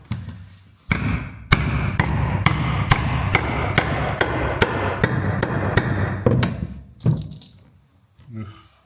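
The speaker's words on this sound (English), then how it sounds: "So I brought a big hammer" A big hammer strikes a metal bollard on an old boat under restoration, about a dozen loud, sharp metallic blows at a steady rhythm, close by, followed by a grunt and faint voices at the end.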